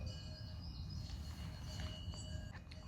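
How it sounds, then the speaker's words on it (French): Birds chirp and whistle outdoors in short, scattered calls over a low rumbling background, fairly faint, with distant bells hinted at as a soft ringing tone behind them. "Les oiseaux d'un côté, les cloches de l'autre côté."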